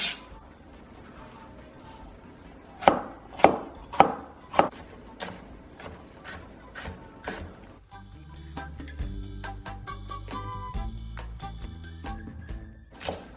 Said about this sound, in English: Chop the parsley.